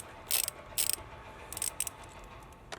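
A ratchet undoes the front bumper screws on a Mini Cooper R50, heard as several short, close bursts of clicking, separated by brief pauses.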